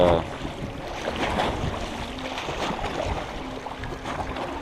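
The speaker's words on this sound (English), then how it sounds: "there's a serious wind towing through here today" Strong wind blowing across a small lake with choppy waves, a gusty rumble and water splashing against the shore, no talk.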